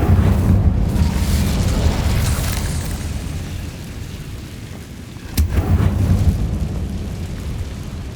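A fiery Incendio spell blasts out in the Hogwarts Legacy video game, a loud, sustained roaring burst with a sharp crackling flare about two-thirds through, continuing as a rumbling rush to the end.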